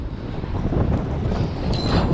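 Strong wind buffets a fishing boat during a wind storm, a loud steady roar and microphone rumble that swells and persists throughout, with a brief higher whistling tone near the end.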